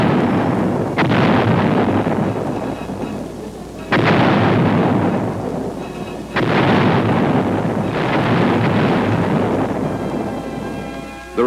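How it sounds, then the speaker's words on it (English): Heavy booming blasts from 155mm howitzers, four or five large detonations each followed by a long rumbling decay, loud and continuous with no pauses of quiet between them. "Later, these were to be replaced by 155mm howitzers, which have greater range."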